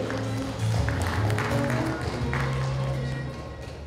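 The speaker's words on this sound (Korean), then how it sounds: "박수로 맞아주시면 감사하겠습니다." An audience claps to welcome a speaker at a Korean lecture, a steady wash of applause holding for several seconds and fading slightly toward the end.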